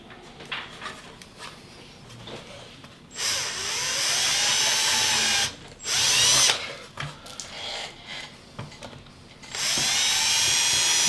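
A power drill whines in several sustained bursts, close and loud, with quieter pauses and small clicks between them.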